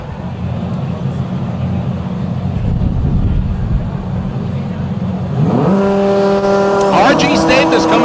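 A drag racing car in a DCT World Cup qualifying run blasts down the strip at around 200 mph, a loud sustained engine roar under continuous commentary, with a rising harmonic whine from a car near the end.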